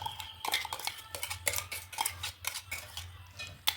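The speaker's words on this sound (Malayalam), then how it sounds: "ഇനി അതിലേക്ക് നമ്മുടെ അരപ്പ് ഒഴിച്ചു കൊടുക്കാം." Ground coconut paste is poured into cooked green gram in a pot and stirred, a brisk run of scraping clinks as a spoon strikes the pot in quick, uneven strokes, close and fairly loud, with no voices.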